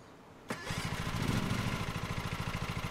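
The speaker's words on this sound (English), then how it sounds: "Hold Z to start the vehicle engine." A vehicle engine in a video game cranks and catches after a sharp click, then settles into a steady rapid putter that grows slightly louder, continuous and alone.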